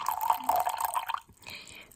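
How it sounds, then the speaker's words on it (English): Water poured close-up into a tea vessel at a Taiwanese tea shop, a steady liquid splash for about a second before stopping abruptly, then a soft hiss. "I will put some more water. So this is the tea."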